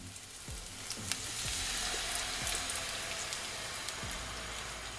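Honey and lemon sauce hitting a pan of sautéed salmon, giving off a steady crackling sizzle with scattered pops, close and moderately loud, with no talking.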